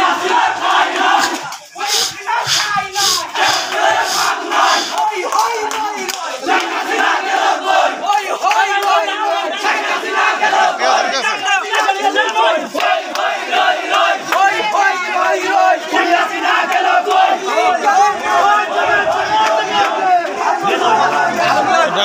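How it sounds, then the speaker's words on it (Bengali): A students' victory procession in Bangladesh: a large crowd chanting and shouting together continuously and loudly outdoors, with voices overlapping throughout. "এই ছাত্রদের বিভিন্ন অঙ্গ সংগঠনের আনন্দ মিছিল"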